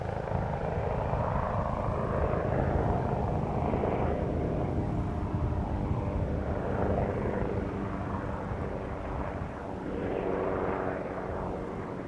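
Aircraft circling near the Polderbaan runway at Schiphol, a steady broad engine drone holding at moderate distance throughout, with slight swells in loudness as it moves around.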